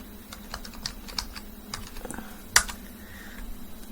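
Quick, irregular keystrokes on a computer keyboard as a username and password are entered, close and fairly quiet, with one sharper clack near the end.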